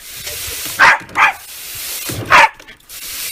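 A border collie barks three times nearby: two quick, sharp barks close together, a short pause, then a single louder bark, with quiet room noise between them.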